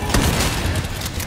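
Shotgun blasts in the Resident Evil 4 remake, loud and dense amid a busy mix of game noise, with no clear separation between individual shots.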